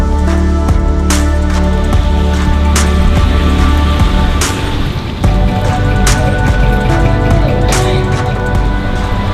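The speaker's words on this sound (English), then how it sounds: "It is a rainy night here in KL" Rain falls on a night street in Kuala Lumpur, a loud, dense patter of drops hitting surfaces with scattered sharper splashes and a low rumble beneath.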